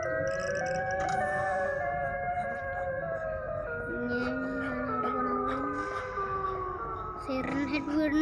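Siren Head's eerie, wailing siren in a Backrooms horror video game: several layered, droning tones slowly slide and waver over the entire stretch. The wail stays clear at moderate loudness while a player speaks over it.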